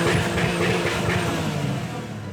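A low, loud two-seater car used as a wedding car runs with a steady, rough engine drone that stays close and fairly loud throughout, with no talk.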